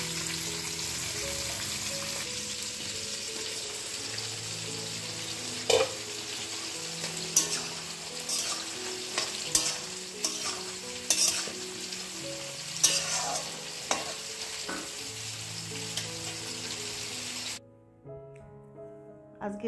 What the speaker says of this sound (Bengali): পাবদা মাছের সর্ষে পোস্ত দিয়ে পাবদা, এই রান্না